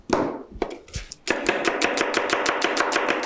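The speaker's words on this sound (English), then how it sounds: "As you can see, I'm chopping the onion rather finely." A chef's knife finely chops an onion on a board at home, first in a few separate heavy cuts, then in a fast, steady run of crisp close taps.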